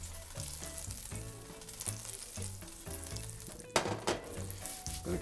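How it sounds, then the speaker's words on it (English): Butter sizzles and fries steadily in a hot pan at medium heat, a close, continuous crackle with a few light utensil and pan knocks scattered through it. "I'm gonna get that butter melted."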